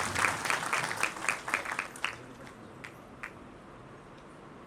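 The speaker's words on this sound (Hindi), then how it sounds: "SBS हरियाणा टीम के लिए भी एक बार जोरदार तालियां।" Audience clapping at a student talent award ceremony in Panchkula, loudest at the start and thinning out after about two seconds into a few faint scattered claps, with a quiet room hum underneath.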